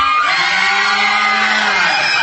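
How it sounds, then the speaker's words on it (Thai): High-pitched screaming from a crowd, loud and sustained throughout, with excited cheering blending together. "เรียกได้ว่าเสียงกรี๊ดที่พอๆกันทุกคนเลย"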